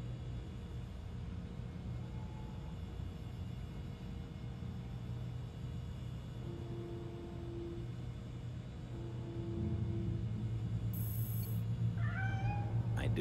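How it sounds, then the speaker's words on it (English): In the video game Gotham Knights, a cat meows a few times near the end over a low steady game rumble, loud and close, after a long stretch of quiet ambience. "You're telling me a cat managed to break through a world-class security system?"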